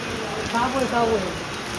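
Rain falls steadily at a railway station, a soft constant hiss of drops on surfaces while someone talks over it.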